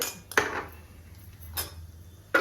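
Roasted dry nut mix for laddu being moved from a pan to a plate, a few sharp metallic clinks and scrapes of a spoon against cookware, spaced apart with quiet gaps between, close and alone.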